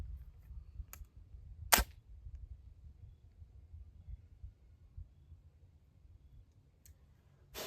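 A single sharp gunshot from a firearm loaded with homemade black powder made from Wonder Bread, a brief crack standing out against a quiet outdoor background, with a couple of fainter clicks before and after.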